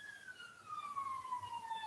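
A fire engine or ambulance siren passes at a distance, its steady wail sliding gradually lower in pitch over a faint, rumbling background.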